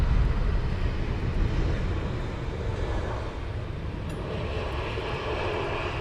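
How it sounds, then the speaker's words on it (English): A steady, fairly loud broadband jet engine roar comes from an Etihad airliner taxiing at London Heathrow Airport, heard from across the airfield. It fades slightly, then holds a constant rumble with no talk over it. "And the Etihad is taxiing down as well over the other side."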